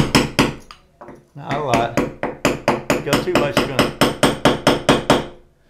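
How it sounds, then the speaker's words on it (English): A small metal awl punch is tapped on bathroom tile while setting a starting mark for drilling, giving a quick run of sharp, close, even clicks after a few single taps, with a brief spoken comment. "I just happen to have this little awl punch here."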